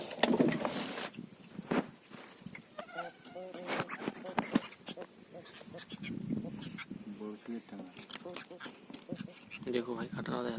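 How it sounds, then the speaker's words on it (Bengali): Mosquitoes whining during rain by a pond, thin insect buzzing that comes and goes over dense patter, with voices talking intermittently. "বৃষ্টির সাথে মশা প্রচুর কামড়াচ্ছে।"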